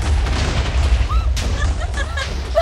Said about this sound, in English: Oh, look, you only blew up part of the bridge.